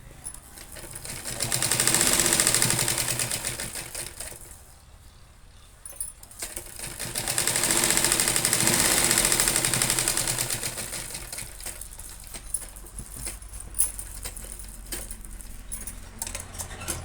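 Sewing machine stitching a strip onto a cloth bag, close and fairly quiet: two sustained runs of rapid mechanical chatter, each a few seconds long, separated by pauses with light handling clatter and faint background noise.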